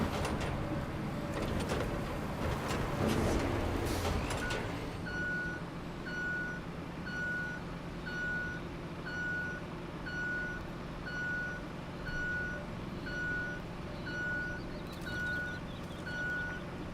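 In the Roadcraft game, a dump truck idles with a low rumble. After some clattering at the start, a reversing alarm gives evenly spaced beeps, about one per second, that continue to the end.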